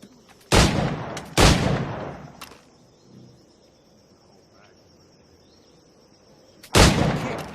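Three sharp, loud bursts of gunfire from the Assassin's Creed Black Flag video game, spaced apart, with a steady high insect-like hum and quiet background between shots.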